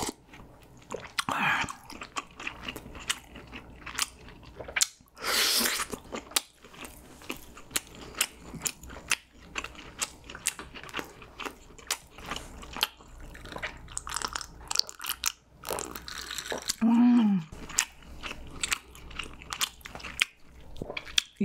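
Close, crisp crunching bites and chewing of a cheese roll cutlet with purple sweet potato filling repeat irregularly, with occasional louder crackles and soft mouth sounds between.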